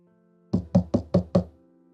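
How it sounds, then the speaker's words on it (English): Five firm knocks on an office door in quick, even succession, close and clear against a quiet background, then silence. "I knocked on the president's office door with a sliver of hope."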